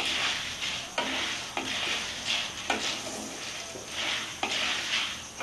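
Corn kernels stirred and roasted in a pan for Bengali-style popcorn, a steady dry rustling hiss broken by regular scraping strokes about every second, close and moderately loud with no talking.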